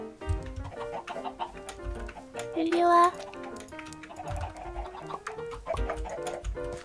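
Chickens in the video game Minecraft cluck in short, repeated bursts, with a louder squawk near the middle, while players chat and talk over the birds the whole time.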